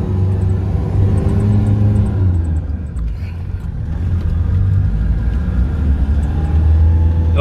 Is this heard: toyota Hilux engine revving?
yes